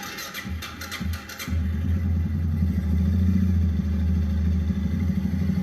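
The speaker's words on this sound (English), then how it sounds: "Now if I start it up and let it go, it's actually starting harder now than it normally does." A Suzuki King Quad 750 ATV with a poor-start and stalling fault cranks with a few rapid clattering turns, catches after a struggle, and settles into a loud, steady low rumbling idle, close by.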